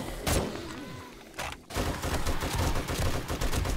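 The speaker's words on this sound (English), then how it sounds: "machine guns are fun" Machine gun fire in the 7 Days To Die video game, a sharp opening burst, a brief quieter gap, then loud sustained rapid automatic fire to the end, close and dense.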